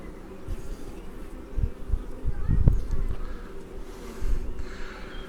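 Honeybees moving over the comb of an open hive make a low, continuous buzz, with louder wingbeat swells as single bees pass close by.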